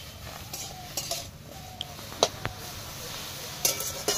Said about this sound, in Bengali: কড়াই বসিয়ে পাতাটা দিয়ে দেবো, তার সাথে দিয়ে দেবো কটা লঙ্কা, রসুন আর একটু পেঁয়াজ, সবটাই দিয়ে সুন্দর করে নাড়াচাড়া দিয়ে